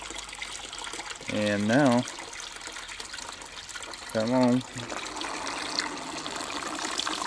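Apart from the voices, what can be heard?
water flowing through a backyard aquaponics system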